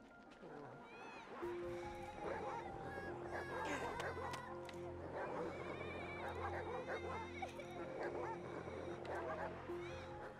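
A dog barks and whimpers in the World War I video game Valiant Hearts: The Great War, with repeated yips over layered game sounds while a player talks throughout.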